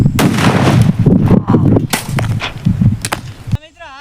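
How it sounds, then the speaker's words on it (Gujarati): A sutli bomb firecracker set off to blast a television goes off with loud, sharp bangs and crackling bursts close by, then a quick drop to near silence. "બીજો સૂતળી બોમ્બ છે ને આપણી પાસે"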